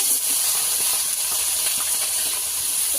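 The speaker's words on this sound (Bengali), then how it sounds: "মাছগুলো ভালো করে ভেজে নেব" Dried fish fry in hot oil in a wok, giving a steady, dense sizzling hiss that holds at an even level throughout at close range.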